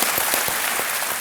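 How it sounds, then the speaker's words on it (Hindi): Studio audience applause on a television quiz show, a dense continuous wash of many hands clapping at steady loudness throughout, with no voices over it. "तालियों के साथ इनका स्वागत किया जाए"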